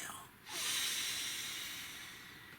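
One deep breath drawn during a healing mantra: a quick, sharp intake swells into a long, airy rush that slowly fades over about two seconds, close and fairly soft.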